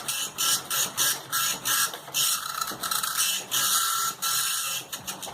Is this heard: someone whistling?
no